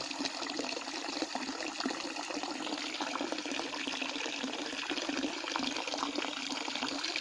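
Water from a well raised by a hydram pump gushing out of an open tap, a steady loud broadband splashing rush that holds unchanged throughout, close by, with no talking.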